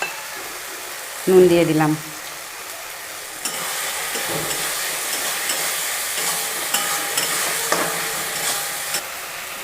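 Local country chicken meat fries and is stirred in an uncovered pan, a steady sizzle with scraping stirs that continues under a brief spoken remark near the start.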